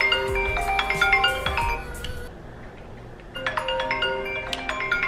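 A phone ringtone plays for a fake incoming call: a bright chiming melodic tone repeating in short bursts, going quiet for about a second mid-way, then resuming, loud and close.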